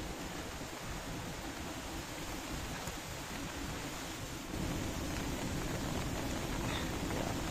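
Rain falling outdoors at an off-grid Pelton wheel hydro site during a repair, a steady broadband hiss that grows slightly heavier partway through, with no voices.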